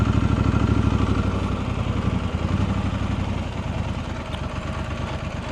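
A motorcycle engine idles steadily nearby while parking at dusk, a low rumbling putter that dips slightly as it settles, with no talking.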